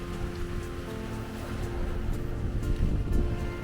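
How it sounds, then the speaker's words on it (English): During an Atlantic Ocean crossing, strong wind of about 30 knots and breaking waves batter a reefed sailboat at sea. A constant roaring rush of water and gusts builds slightly toward the end. "Because the wind is like 30 knots."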